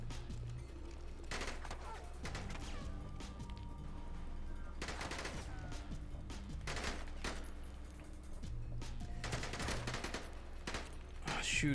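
Bursts of gunfire in the action game Robert Ludlum's The Bourne Conspiracy: several sharp volleys spaced a second or two apart, heard under ongoing talk and game sounds.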